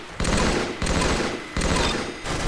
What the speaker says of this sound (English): I'm gonna try shooting in bursts out of him.